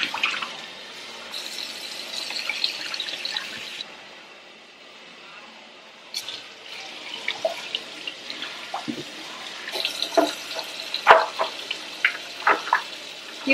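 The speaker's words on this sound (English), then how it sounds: "Go ahead and just rinse this out with hot water." Hot tap water runs into a sink while parts of a Bissell Crosswave floor cleaner are rinsed, a steady splashing stream that briefly stops, then resumes with clattering knocks and bursts of spattering water nearby.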